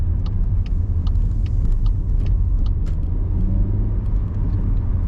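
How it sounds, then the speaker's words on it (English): A car on a driving-test practice route around Horsforth in Leeds rolls along with a steady, close, low engine rumble that stays even throughout, with no talking. "I'm gonna make my car go."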